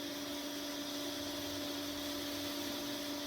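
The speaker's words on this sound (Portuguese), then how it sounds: "Agora começa o nivelamento em si. Automaticamente, ela nivela a mesa de impressão" A 3D printer starts automatic leveling of its print bed, giving a steady, even mechanical whir with constant tonal hum bands. It is moderately loud and has no talk over it.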